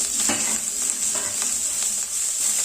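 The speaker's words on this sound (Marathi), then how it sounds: "लगेच आपल्याला टाकायची आहे कोथिंबीर" Coriander leaves stirred in a pan for crispy kothimbir vadi, with a steady bright sizzle under repeated soft scraping strokes, close and continuous with no talking.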